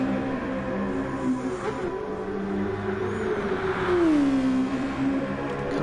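A race car in a racing video game lapping the Nordschleife through the forest, engine droning and rising in pitch under acceleration, steady and loud from onboard.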